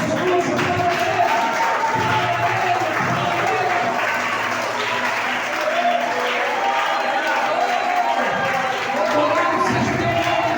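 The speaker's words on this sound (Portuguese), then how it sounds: "Aplaude Jesus, aplaude Ele." A church congregation at a youth worship service applauds in a steady, sustained wash of clapping that fills the room, with voices faintly mixed in.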